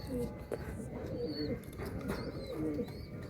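Soft, repeated cooing of Oman and Saki Teddy pigeons for sale in Kolkata close by, several low warbling calls over a dull background hum.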